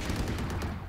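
Gunfire in a video game rattles off in a quick burst of several muffled shots over a dense low rumble, with no speech.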